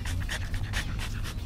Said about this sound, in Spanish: Es un gran perro, es un gran perro.